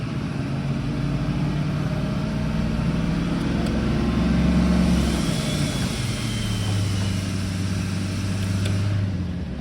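Vehicle engine with an exhaust brake system runs steadily, a loud low droning rumble whose pitch shifts slightly midway as the brake engages, continuous and close throughout.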